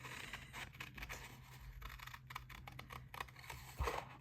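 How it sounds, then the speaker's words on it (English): Hand cutting heat-embossed card stock with scissors, a run of soft irregular snips and paper rustles, quiet and close with no voices. "We're going to fussy cut this out."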